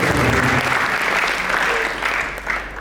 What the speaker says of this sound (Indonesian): Kalau mau tepuk tangan